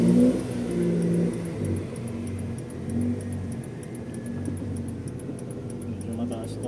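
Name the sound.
Honda Civic EG engine revving, testing new clutch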